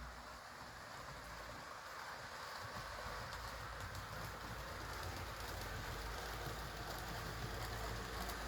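An HO scale model train runs on an old Atlas 4x8 layout, a steady continuous rolling rumble and hiss that grows slightly louder as it speeds up, with no talking.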